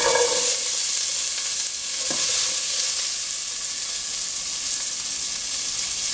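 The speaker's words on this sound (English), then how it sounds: "I'm going to add my onions and peppers first" Onions and peppers sizzle steadily in a hot pot, a loud, continuous frying hiss with no talk.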